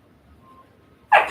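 A dog lets out a single sharp, loud bark close by at the very end, after a near-silent stretch.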